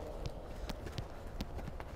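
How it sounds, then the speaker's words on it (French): Horse trotting in a riding arena during a schooling lesson, hooves clip-clopping in a steady, even rhythm at moderate distance, several distinct strikes over a low rumble with no talking. "Allez, on reprend le trot."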